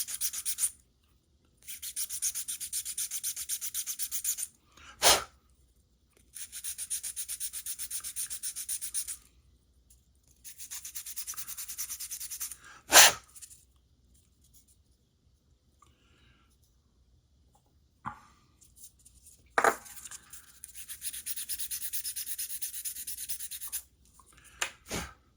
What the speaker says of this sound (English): I do need to do a little bit more sanding on some of this